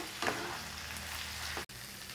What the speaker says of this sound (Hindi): अब हम इसमें हमारे आलू ऐड कर देते हैं बॉईल आ गया है और इनको अच्छे से मिक्स कर लेते हैं